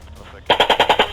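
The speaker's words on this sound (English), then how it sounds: "the Israeli Apache helicopters followed the drones and used their 30mm cannons to shoot the drones down mid-air" After a brief quiet pause, an Israeli Apache helicopter's 30mm cannon fires a rapid burst of about six loud, evenly spaced rounds at Iranian Shahed drones.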